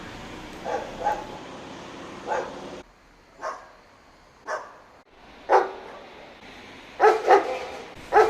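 Several dogs bark from rooftops among concrete buildings in Athens, distant barks and yips coming in scattered bursts, some sharper and closer near the end, with quieter gaps between.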